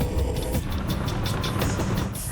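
Tank engine revving, a loud, rough, low mechanical roar with fluctuating rumble, heard up close for a couple of seconds.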